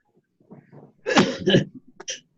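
A single sharp sneeze burst following a short breathy intake, close and fairly loud, then a quick trailing sound.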